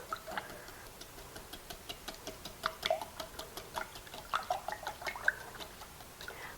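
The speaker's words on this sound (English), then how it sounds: "We're going to whisk it all together." Eggs whisked in a bowl with garlic powder and onion powder for an English muffin breakfast casserole, giving a steady run of quick, light clicking taps, fairly faint and close, with no talking.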